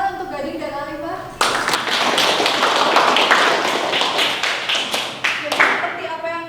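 Students in a classroom burst into applause, many hands clapping densely for several seconds and then tapering off, with a voice talking just before and after.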